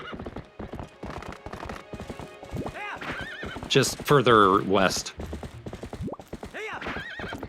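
Horse in Twilight Princess HD clip-clopping steadily with hoofbeats, then letting out a loud whinny partway through, while someone talks over the game sounds.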